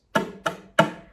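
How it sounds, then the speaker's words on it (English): Fingernails tap against a ukulele fretboard as a percussive effect. Three short, dry clicks come close up and fairly quiet, each with a brief woody decay and no speech. "I'm actually just tapping my nails against the fretboard."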